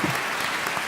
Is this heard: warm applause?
yes